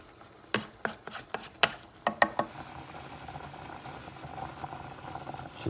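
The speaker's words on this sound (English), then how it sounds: "It's boiling." Water coming to a boil in a pot of eggplant stew on an electric stove, a few sharp clacks at first, then a steady soft bubbling hiss that carries on alone.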